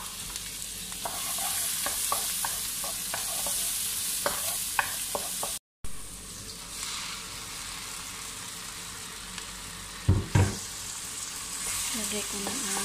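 Onion fries in a pan for bolognese sauce, giving a steady, loud sizzle throughout with occasional stirring scrapes and utensil clinks, under a brief break and some faint voices.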